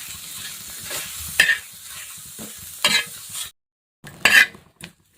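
Onions frying in a pan for a spiced bitter gourd curry, a steady close sizzle broken by several sharp scrapes of a spatula stirring against the pan, a short silent gap before a final stir.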